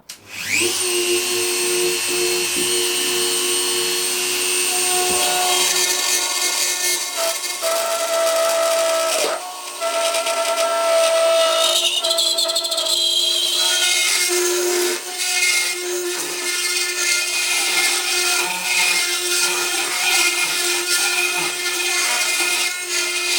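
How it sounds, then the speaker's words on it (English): A rotary tool grinds away fixing resin inside a "Invasion" Cyberman head, giving a steady high-pitched whine with rasping, shifting tones as it presses on the material, close and continuous with brief dips and no talking. "use a rotary tool to remove the remnants of the original handlebars and to grind away the fixing resin"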